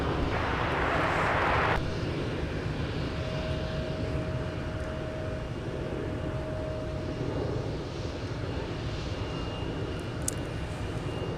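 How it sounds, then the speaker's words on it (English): An Embraer jet roars steadily at Minneapolis–Saint Paul airport, a broad continuous rumble heard from a distance, with a thin tone running through it for part of the time. "So this Embraer is actually headed off to the west side of the field."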